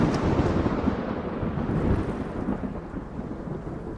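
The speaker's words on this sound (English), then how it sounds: "You just every now and then you just hear sort of the rumbling thunder as it goes." Rumbling thunder sound effect playing during a Dungeons & Dragons session, a loud continuous roll of thunder with rain-like hiss that slowly fades, heard alone without talk.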